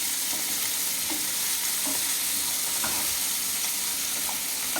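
Onions sautéing in a pan, a steady close sizzle with occasional scrapes and stirring clicks from a spoon, continuing evenly with no voices.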